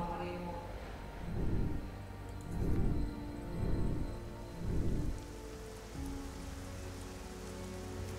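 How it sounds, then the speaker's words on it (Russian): Steady rain patters and hisses throughout in the video game Gothic 4: Arcania, with a few low, muffled bursts rising briefly in the middle. "А вот и дождик."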